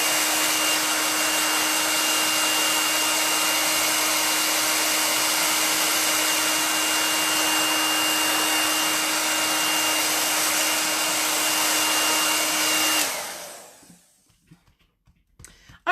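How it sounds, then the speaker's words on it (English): A hair dryer drying chalk paste runs at a steady high whine for about thirteen seconds, close and constant, then switches off abruptly into near silence with faint handling sounds. "I'm going to dry this now"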